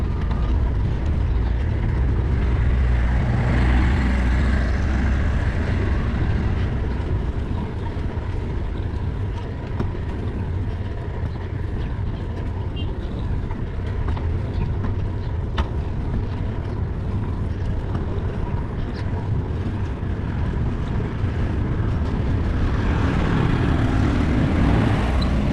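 A motorcycle climbs a steep uphill road through a town in Afghanistan, its engine droning loudly and steadily the whole way with heavy wind and road rumble and no clear breaks.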